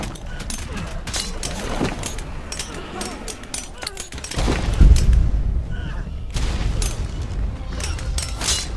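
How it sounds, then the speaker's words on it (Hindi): Grenade explosions in the video game ARK: Survival of the Fittest, a heavy boom mid-clip among a dense clatter of gunfire and impacts, with someone talking excitedly over the action. "ये ग्रेनेड है भाई।"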